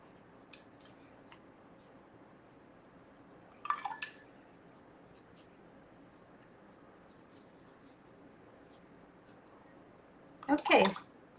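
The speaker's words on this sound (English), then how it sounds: "Okay, so I'm rinsing as much as I can off the brush." A watercolor paintbrush is rinsed in a water jar, giving two short bursts of clinking, splashy swishing a few seconds apart, plus a couple of faint taps, close and fairly quiet over a hushed room.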